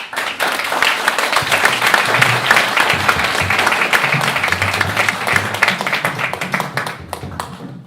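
An audience welcomes a storyteller with loud, dense applause that rolls on for several seconds, then thins out and fades toward the end.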